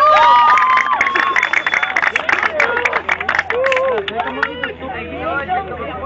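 At a freestyle rap battle, the crowd cheers and claps loudly, with whoops and excited shouting that swell early and then thin slightly, while an emcee speaks over the noise.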